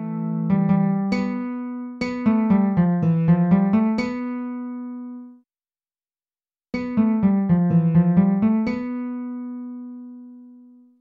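An unequalized SunVox synth line with a brighter, harsher top plays two bursts of quick melodic notes over a droning low tone, separated by a short silence, with the final note fading out.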